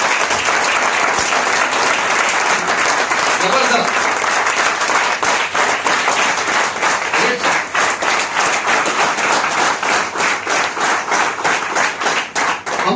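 A large audience at a company presentation claps steadily and loudly for the team, the applause settling into a faster, rhythmic unison clapping toward the end, with a brief spoken exclamation over it.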